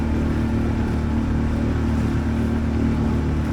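A sailboat's inboard engine runs at about half throttle on Chesapeake Bay, a steady, close, droning hum with a constant low throb and no change in pitch, with no talk over it.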